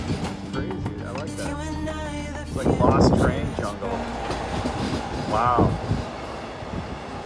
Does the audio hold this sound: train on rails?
yes